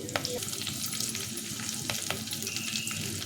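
Curry leaves sizzle and crackle in hot frying oil, a steady close hiss with scattered sharp pops and faint stirring throughout.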